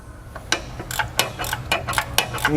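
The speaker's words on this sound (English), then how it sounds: "So we're going to ratchet this nut out" A 21 millimeter ratchet wrench loosens a nut on a car's motor mount area between control arm and subframe, giving a quick series of sharp, close metallic clicks in an uneven rhythm.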